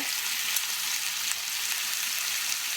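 Chicken browns in a frying pan with a steady close hiss of sizzling oil, even and continuous with faint crackles throughout.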